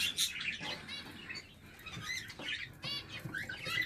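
Budgerigars in an aviary chirp and twitter constantly, a busy overlapping chatter of high calls heard at moderate distance with no voices.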